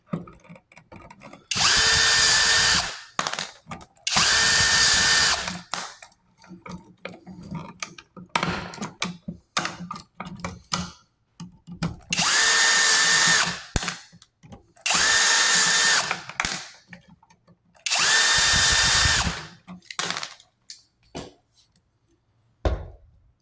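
A power drill backs screws out of a wall receptacle during an apartment rewiring job, giving five loud sustained whirring bursts of about a second each, separated by quieter handling clicks and rustles.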